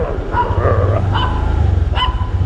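Dogs bark and yip in short bursts nearby on a backstreet in Sanur, Bali, over a steady low rumble in the background.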